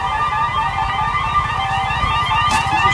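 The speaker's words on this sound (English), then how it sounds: "Everybody's running. Sirens going off." Air raid sirens wail through a city street in Israel right after a missile strike, a steady sustained tone holding over continuous rumbling street noise for the whole stretch.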